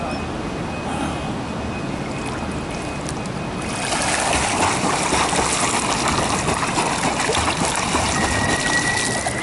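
A swimmer practising front crawl, kicking and gliding through the water, produces steady broadband splashing and churning that grows noticeably louder partway through and continues without a break.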